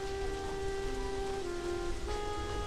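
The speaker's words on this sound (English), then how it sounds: "It kind of sounds like the rain audio is recorded from like in a bathroom" Steady rain from the game Halo 3: ODST, an even close hiss of falling drops with a faint hollow, tiled echo, continuous and alone with no talking.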